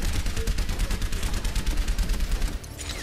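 Mercy's pistol in the video game Overwatch, fired in a rapid, steady stream of sharp shots for over two seconds before stopping, close and loud.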